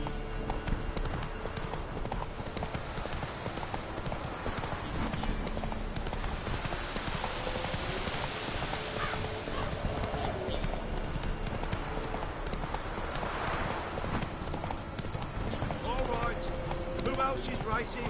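Roach, a horse in The Witcher 3: Wild Hunt, galloping in a video game, with continuous rapid hoofbeats running under a dense game soundscape and occasional talk over it.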